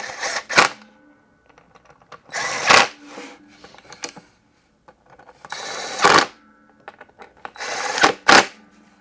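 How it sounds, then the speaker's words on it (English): A small 12-volt impact wrench removing lug nuts on a drum, sounding as four loud, close bursts of rapid hammering, each lasting well under a second, separated by pauses with faint handling noise. "This is not a very strong little impact wrench. So it's not like industrial or anything. It's a 12 volt."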